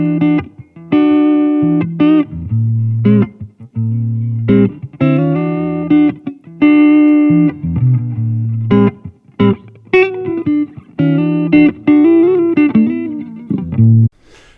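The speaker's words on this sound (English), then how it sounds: "My final example is of some excellent guitar playing." A guitar plays a melodic run of plucked notes and chords, close and dry with almost no room echo, steady and unaccompanied throughout.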